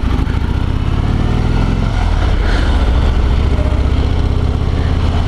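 Harley-Davidson Road Glide 2020 with a Milwaukee-Eight engine running loud and close, a dense throbbing V-twin idle that dips briefly around the middle, then carries on steadily and strongly with no speech.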